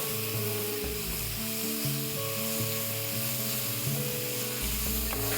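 Onions sauté with a sprig of curry leaves in a pan for Durban mutton curry, giving a steady, close hiss of frying that runs the whole time beneath soft background music.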